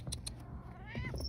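A pet cat meows once in a short rising call, close and fairly quiet, recorded on an iPhone against a low background hum.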